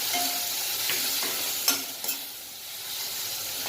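Yogurt stirred into a potato and papad curry in a pan: a soft continuous stir and light sizzle with a few brief scrapes, close and steady, no talking.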